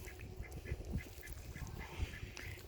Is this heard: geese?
yes